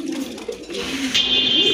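Pigeons at a sale collection give a close, low, steady coo with a brief higher chirp near the end. No one is talking.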